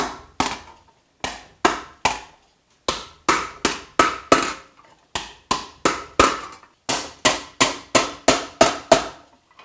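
Master silversmith hammering silver to block it in a shallow wooden dish: loud, sharp, close metallic blows in steady rhythmic clusters of three to five strikes, separated by short pauses, with no talking.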